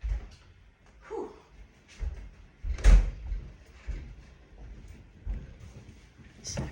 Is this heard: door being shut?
yes